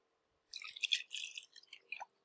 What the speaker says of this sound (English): let's add just some plain water